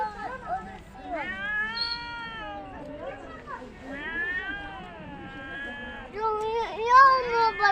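A cat in a park meows repeatedly while being fed small aquarium fish, with long drawn-out cries that rise and fall, mixed with nearby voices talking.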